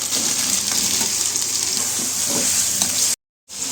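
Meat pieces fry with onions and curry leaves in a hot pan, a dense continuous sizzle with stirring scrapes, cutting to silence briefly near the end before the frying resumes.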